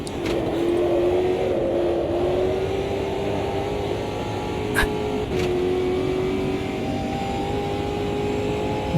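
Race car engine in a racing video game holding a loud, steady high-rev drone with slight pitch rises and a couple of quick shift blips, close and continuous with no talk.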